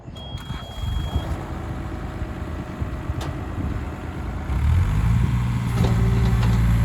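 A Takeuchi TB235 runs close by with a steady low engine rumble that rises to a louder, heavier drone partway through, and a faint thin tone sounds briefly near the start.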